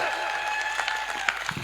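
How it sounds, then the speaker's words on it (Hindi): An audience at a comic Hindi poetry recital claps, a short burst of scattered, fairly faint applause with a few sharper individual claps near the end. "एक बार पूरी मस्ती के साथ जोरदार तालियां बजाइए।"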